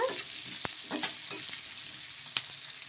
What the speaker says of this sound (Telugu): పచ్చిమిర్చి చిన్నగా కట్ చేసుకున్న పచ్చిమిర్చి వేసుకొని ఒకసారి బాగా కలిపేసుకున్నాము